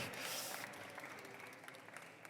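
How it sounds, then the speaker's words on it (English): Audience applause for a speaker on a conference innovation stage, heard as a soft, distant wash of clapping that swells briefly at the start and then tapers off. "Round of applause, please, for Eric."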